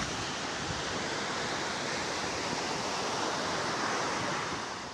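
Surf rolls steadily onto the beach at Ocean City, Maryland, a constant loud wash of breaking waves mixed with wind buffeting the microphone.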